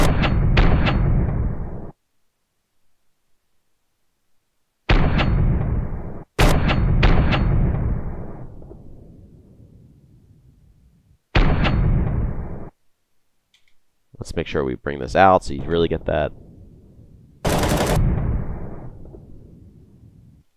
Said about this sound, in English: do you hear that atmospheric sound as like the gun sort of fades off?